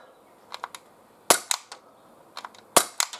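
Shots from a Glock 17 pistol at a 10-yard range, two sharp loud cracks about a second and a half apart, each trailed by smaller clicks and pops, heard alone without talk.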